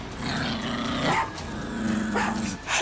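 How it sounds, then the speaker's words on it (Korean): A dog barks and growls close by in a few short, rough bursts over a steady background hum, with no talking. "해피가 짖는 소리에 눈을 떠보니까"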